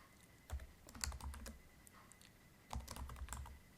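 Typing on a computer keyboard while writing SQL, two quick bursts of close, crisp key clicks separated by a short pause, no voices.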